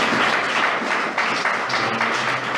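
A church congregation claps together during an evangelical sermon, a dense, steady wash of applause filling the whole moment with no pauses or voices breaking through.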